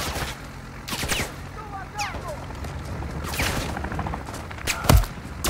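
Gunfire during a Modern Warfare 3 zombies match, scattered bursts of shots and a heavier thump near the end, mixed with game voices talking and ambient battle noise.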